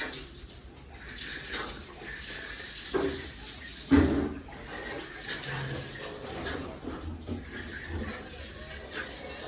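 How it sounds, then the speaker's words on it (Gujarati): Tap water runs into a container for drinking water with a steady rushing splash, a couple of knocks and clatters along the way. "પાણી ભરી જાય હવે"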